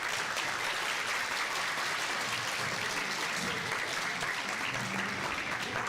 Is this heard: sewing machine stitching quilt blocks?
no